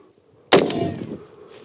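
A single sharp, loud shot from a 7.62 black-tip armor-piercing rifle round striking a ceramic armor plate, a sudden crack that decays into a short ringing tail after a quiet lead-in.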